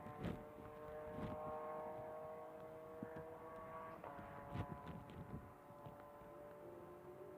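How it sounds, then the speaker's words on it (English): A distant race car engine, an MG Midget, hums and whines steadily in the background with sustained tonal harmonics, mixed with scattered nearby knocks and ambient noise at MotorLand Aragon on a hot day. "You can hear the Midjet singing away in the background."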